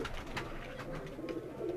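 Breeder pairs of pigeons coo softly in their loft, a few low, repeated throaty calls close by and fairly quiet, with no talk.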